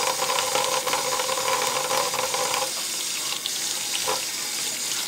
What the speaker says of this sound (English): I like to wash them and throw them in a colander